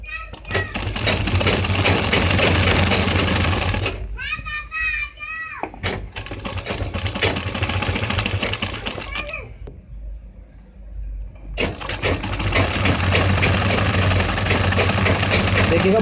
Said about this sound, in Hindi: ये जो बुकरम देख रहे हैं आप, इसके अंदर की साइड पे लब पे सिलाई लगाएंगे